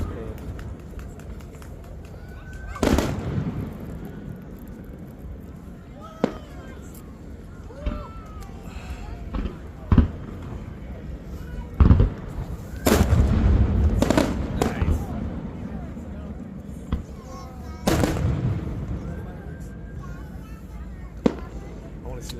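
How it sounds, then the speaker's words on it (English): Fourth of July fireworks show over a bridge in Bremerton, with scattered booms and crackling bursts of varying loudness, some distant and some sharp, heard under ongoing crowd chatter and people talking nearby. "Biggest fireworks show on the West Coast."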